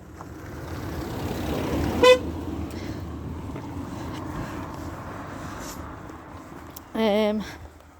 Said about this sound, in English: Somebody I knew who blew the horn